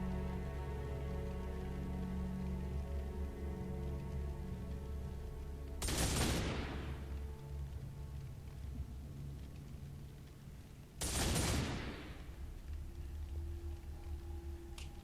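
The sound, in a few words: gunfire in Warhammer 40K Space Wolf video game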